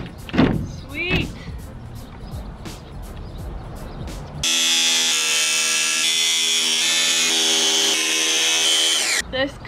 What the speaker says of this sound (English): So I'm gonna hopefully finish up this cut and we'll see how it goes with the new jigsaw.